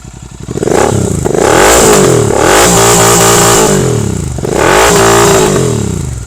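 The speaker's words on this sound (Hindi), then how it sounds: "काफी लाउड एग्जॉस्ट है।" Royal Enfield Continental GT650 fitted with a Red Rooster Performance exhaust, blipped in several loud, close throttle revs that rise and fall, with a rough, throaty note and no talking.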